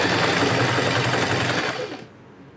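A sewing machine runs a fast, continuous stitching whir along the waistband of a chudidar pant, loud and close, then stops abruptly near the end.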